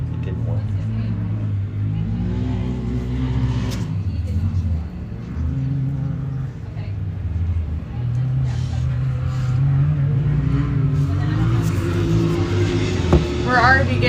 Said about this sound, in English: We're already getting quite a few cars coming through.